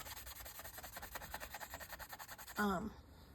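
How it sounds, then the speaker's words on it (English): A UV resin pen gets rough sanded in quick rhythmic rubbing strokes, soft and near, ending in a short squeaky scrape. "So we're gonna sand, just rough sand it."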